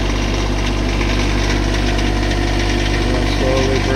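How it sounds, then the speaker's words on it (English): A Kioti-style RK24 compact tractor engine runs steadily at a loud, close idle, a constant low rumble and vibration that rises slightly as the throttle is opened toward the end. "Now that the tractor's running, I'll go ahead and throttle it up just a little bit."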